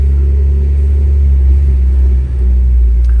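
Low, steady engine rumble from a Mitsubishi Evo X cruising at night, heard from inside the car as a constant deep drone with a brief dip near the end.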